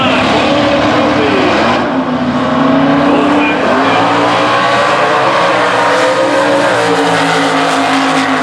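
NHRA drag race cars at Epping, New Hampshire launching off the line and charging down the quarter-mile strip, a loud continuous roar of engines with shifting pitch that stays dense and close throughout.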